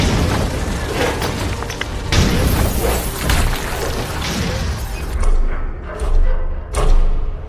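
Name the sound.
rumbling, spotlight explosion and equipment falling in film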